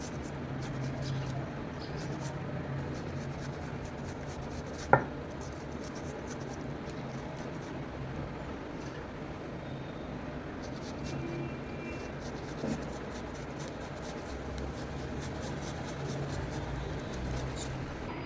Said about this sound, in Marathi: आता हे जे 2 कांदे छोटे टॅमॅटो घेतलेत आपले, ते आपण असे खिसून घ्यायचे छोट्या ह्याच्यावर